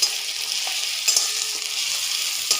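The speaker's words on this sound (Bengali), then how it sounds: "রসুন বাটাটা দিয়ে একটু নাড়াচাড়া করে নেব।" Garlic paste fries in a pan for a fish and eggplant curry, giving a close, steady hiss of sizzling oil with a few brief clicks as it is stirred.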